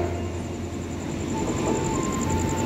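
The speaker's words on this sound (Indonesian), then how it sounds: "Kereta api Tegal Bahari sudah tiba di stasiun Bekasi." Tegal Bahari business-class train at Bekasi station, a steady rolling rumble with low drone and a faint high tonal whine throughout, loud and continuous with no voices.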